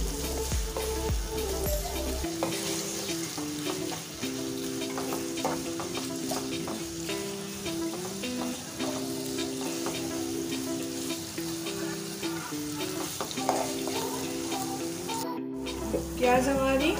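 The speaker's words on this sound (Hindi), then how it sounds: "फिर इसमें मैं 3 मीडियम साइज की कटी हुई प्याज ऐड करूंगी। इसे हम लाइट ब्राउन करेंगे।" Three medium chopped onions frying in flavoured oil for prawn pulao, a continuous close sizzle with frequent scraping stirs of a spoon in the pan, briefly interrupted near the end.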